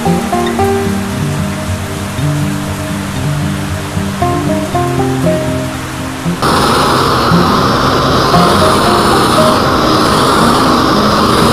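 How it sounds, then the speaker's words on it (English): Steady, dense wash of heavy rain that suddenly grows louder and fuller partway through, a constant roaring downpour with no voices. "starting to downpour here"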